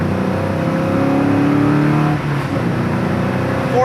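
LS-swapped 1968 Chevy Camaro restomod accelerating hard in second gear, a loud, continuous engine roar with rising pitch heard from inside the car, briefly dipping near the end.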